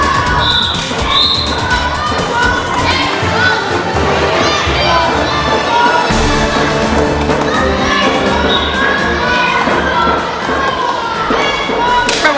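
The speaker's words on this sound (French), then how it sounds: "La foule est en délire." A tournament game crowd roars and cheers wildly throughout, a dense, loud wash of shouting voices with occasional thumps and bangs mixed in.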